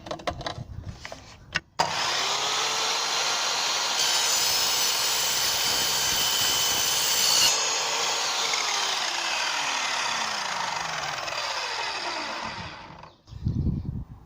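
Power saw cutting a metal wardrobe rail to length outdoors: a loud, steady high-pitched grinding whine held for about eleven seconds, then winding down as the cut finishes, with brief handling clatter before and after.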